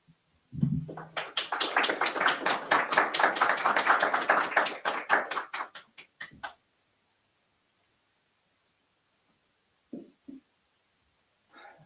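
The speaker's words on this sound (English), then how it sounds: "You got applause." Applause from an audience following a speech at a forum: a burst of dense clapping rises quickly, holds steady for about five seconds, then thins into a few scattered claps before fading to silence, with a couple of faint isolated sounds afterward.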